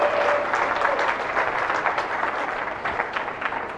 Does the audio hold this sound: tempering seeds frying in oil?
no